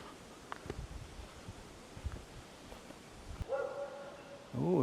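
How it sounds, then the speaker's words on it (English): A dog barks and yelps a few times at a distance amid outdoor rustle of swaying trees in a forest, followed by a couple of clearer, closer barks near the end. "Oh, the dog's barking."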